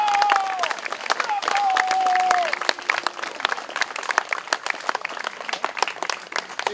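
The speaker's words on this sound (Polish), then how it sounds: "Wielkie brawa dla wszystkich zebranych i wszystkich tych" Crowd at an association's farewell party clapping for everyone gathered, dense crackling applause with a few whistles and cheers at first, staying lively as the whistles drop away.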